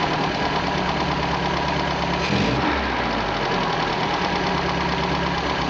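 An MG engine with HIF carburetors idles steadily above 800 RPM during carburetor tuning, a loud, constant mechanical hum with a slight lumpy pulse, heard up close and uninterrupted.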